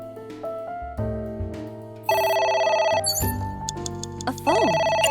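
An in-game telephone rings in AI: The Somnium Files, bright electronic ring bursts starting partway in, sitting over a layered game music backdrop with tones and swells.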